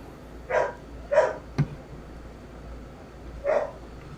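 Dog barks three times at a distance in the background, single muffled woofs spaced apart, with a brief knock between them.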